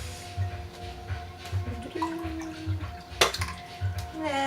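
Hot water poured into a cup for a morning lemon drink, a soft steady liquid trickle with small clinks and a sharp knock near the end, close and fairly quiet.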